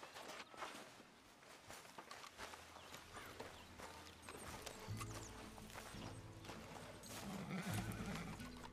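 A horse in the Western video game Red Dead Redemption 2 whinnies amid clip-clopping hooves and footsteps, with layered game sound effects and music-like tones building toward the end.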